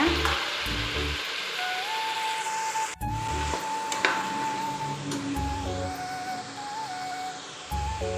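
Chickpeas sautéing with tomato and onion in a pan for chickpea kurma, a soft sizzle under scraping, rubbing strokes of a spatula, with a faint background tone and no talk.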